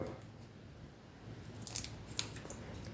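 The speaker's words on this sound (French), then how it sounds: "je découpe correctement" Scissors cut paper for scrapbooking, a few quiet crisp snips clustered near the end against a soft, hushed room.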